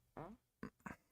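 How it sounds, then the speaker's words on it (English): A short fart in three quick bursts, one longer followed by two briefer ones, close and fairly quiet. "Farted again."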